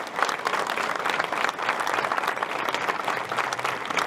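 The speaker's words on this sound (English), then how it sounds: "If we could give them all a round of applause." Graduation audience applauds in a continuous, even roar of many hands, full and sustained for several seconds with no speech over it.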